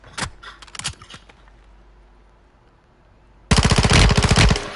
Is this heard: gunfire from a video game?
yes